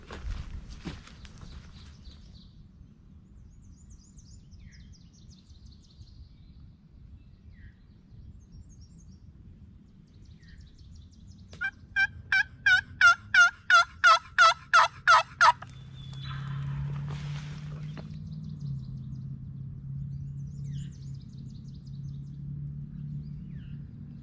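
A wild turkey gobbles in a rapid burst of about eight loud, evenly spaced calls midway through, over steady outdoor rumble and light rustling.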